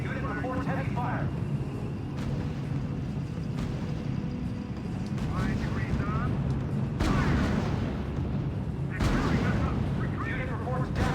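Heavy gunfire and artillery from the R.U.S.E. strategy game on Xbox 360 rumble steadily, with sharper blasts breaking through the dense, sustained barrage.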